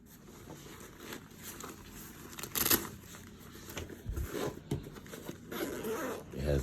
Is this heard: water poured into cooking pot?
no